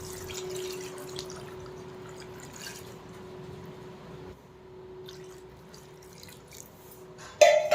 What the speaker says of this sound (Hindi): अब इसके बाद मैं इसमें डालूँगी 2 लीटर पानी।